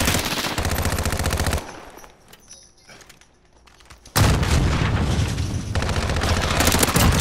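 Sustained automatic gunfire in Call of Duty: Modern Warfare, loud dense bursts up close that drop out for a couple of seconds midway, then resume just as heavy.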